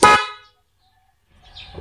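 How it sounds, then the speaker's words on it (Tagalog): A stock car horn gives one loud, harmonically rich blast about a quarter second long, then silence, followed by faint low rumbling and a soft mid-range sound near the end. "So pindutin natin, dapat stock horn."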